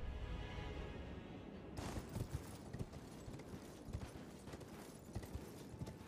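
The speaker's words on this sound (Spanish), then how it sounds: "No sabía que podía usar caballo aquí dentro." A horse gallops in the video game Elden Ring, with rapid, rhythmic hoofbeats thudding steadily over a dense in-game ambience after a brief quieter opening, fairly faint overall and without talk.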